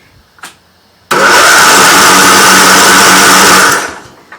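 A small engine with a throttle and choke is cranked while its starter is being checked. A loud, close whirring burst runs steadily for about two and a half seconds and then cuts off, with no talking.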